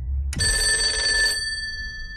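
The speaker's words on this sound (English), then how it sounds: "the phone rang." A telephone bell rings once in a single loud, sustained metallic burst of about a second, then decays into a lingering ring over low background hum.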